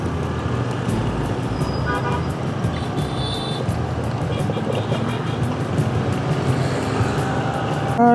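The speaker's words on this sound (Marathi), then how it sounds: "काकाने डिझेल इंजिन लावले रिक्षाला नुसताच आवाज करतोय खर खर खर खर" A diesel-engine auto rickshaw rattles with a steady low, rough drone up close, while horns toot from passing traffic on the road now and then.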